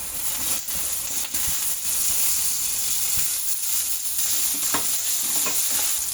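Tomatoes frying in a pan with browned onion and garlic paste for pav bhaji, making a constant loud sizzle broken by brisk stirring scrapes and spoon taps.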